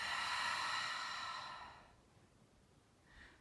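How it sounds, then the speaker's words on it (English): A single long, breathy exhale through the mouth during a yoga breathing exercise, close and soft, fading out after about two seconds, followed by a faint short breath near the end. "Exhale through your mouth."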